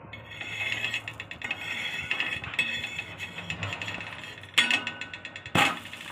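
A metal spatula scrapes and clicks against a pan while flipping a dosa, a run of rapid close scraping ticks followed by two sharper clanks near the end.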